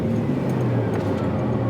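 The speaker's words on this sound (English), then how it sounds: "So let's fire it up and get out in it." A 1980s Ferrari Testarossa engine runs close by in a service workshop, a steady low mechanical drone with a faint rising note, continuous through the short clip.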